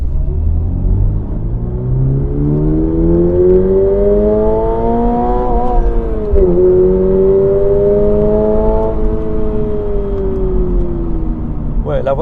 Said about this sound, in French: Allez, je vous fais une petite accélération.